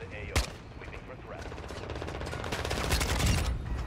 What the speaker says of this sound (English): What are you shooting at? What's he shooting at?